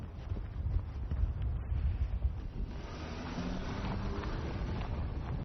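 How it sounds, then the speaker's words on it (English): Strong mountain wind at high altitude buffets the microphone in a continuous low roar, gusting harder in the first half, with no voices. "it really, really gets very windy up here"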